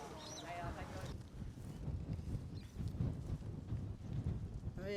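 Hooves of Bella, a horse warming up at a dressage club on a surface arena, thud in a steady walking rhythm over wind noise, with a voice briefly audible at the start.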